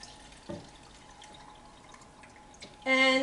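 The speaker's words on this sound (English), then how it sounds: "we're just going to add a little bit more water to this" Water added into a blender for a seed ball paper mix, a short drip and splash followed by a louder liquid burst near the end, close and brief.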